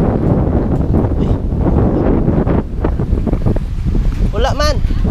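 Strong wind at a beach in Baliangaw roars and buffets the microphone without pause, with surf underneath, brief voices in between and a short whistling or squeaking sound near the end.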